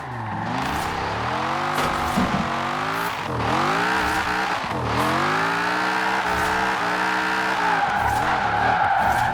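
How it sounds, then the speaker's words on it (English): A Dodge Viper drifts around an airfield in Forza Horizon 4, engine roaring and rising and falling in pitch while tires squeal and skid continuously, loud and close throughout. "I actually want to try and drift it around there."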